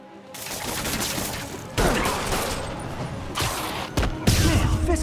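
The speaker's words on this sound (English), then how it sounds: "Somebody just shoot him!" Gunfire in the video game Spider-Man Remastered on PlayStation 5: a dense, continuous fusillade of shots with heavier thuds and bursts, growing louder toward the end, over steady game background noise.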